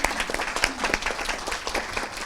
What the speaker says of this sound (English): I wouldn't mind clapping for him again